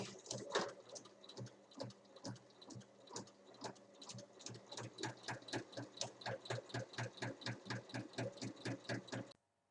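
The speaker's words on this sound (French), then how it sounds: "maintenant je pique avec un point d'arrêt au début." A sewing machine runs a straight seam with a backstitch at the start while making a fabric catch-all, its needle tapping in a quick, even rhythm close by before it suddenly stops.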